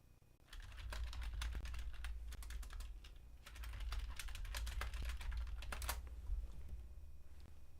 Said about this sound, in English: Well, what I was typing in.